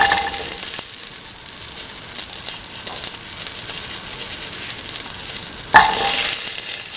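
Shallots hit a hot pan for a winter melon, ivy gourd and coconut milk stew, a loud steady sizzle that swells with a fresh burst of frying near the end.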